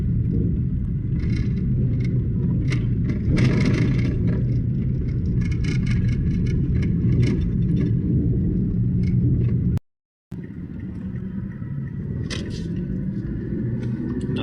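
A vehicle cruising along a highway gives a steady, close road rumble and tyre whir that holds throughout, briefly cutting out for a moment before resuming, with no voices.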